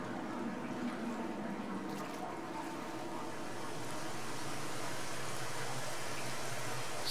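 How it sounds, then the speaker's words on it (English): A waterfall in the Dear Esther game rushes as a steady, broad wash of falling water that grows slightly louder toward the end, with no voices over it. "Ooh, a waterfall."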